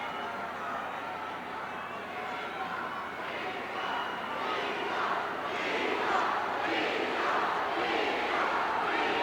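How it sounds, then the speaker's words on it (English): A large wrestling arena crowd chants in unison against manager Bobby Heenan, a dense roar of many voices swelling into rhythmic bursts in the second half, loud and continuous. "this crowd is really getting on Bobby Heenan's case tonight. You can hear them in unison."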